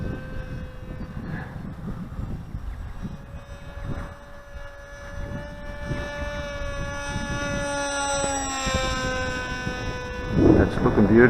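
A Rambler-X FPV model wing makes a low pass on a windy day at under half throttle. Its thin electric motor whine rises in pitch as it nears, over a rough wind rumble that ends in a louder gust.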